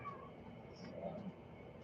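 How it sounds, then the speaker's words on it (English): A house cat cries and meows at home, a few faint, plaintive calls set against a steady room hum and low background noise. "Cat is the biggest crybaby there ever was that walked this planet Earth."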